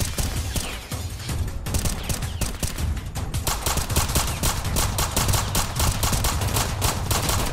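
Loud, sustained video-game gunfire crackles throughout, with rapid automatic bursts that tighten into a steady stream of shots in the second half and no talking over them.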